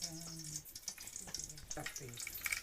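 Mustard seeds added to a fish curry cooking over a wood-fired stove crackle and sizzle up close, in soft bursts, while people talk over the frying.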